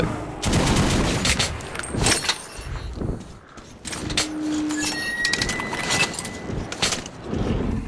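Video game gunfire in Metro: Last Light Redux, rapid bursts of shots cracking in clusters with mechanical clatter and brief pauses between volleys, loud and close.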